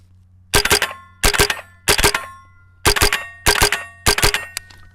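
A Smith & Wesson 15-22 rifle fires in quick double taps, three pairs of loud, sharp reports with ringing tails and short gaps between each pair, close and with no talk.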